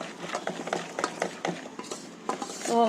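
Brownie batter is stirred in a bowl with quick, repeated scraping and clinking strokes, close and fairly steady, with no voice over them.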